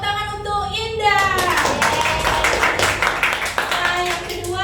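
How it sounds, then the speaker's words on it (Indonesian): A classroom of students clapping for a classmate, a burst of hand claps that rises quickly and continues for several seconds, with a teacher's voice over the start. "tepuk tangan untuk Indah"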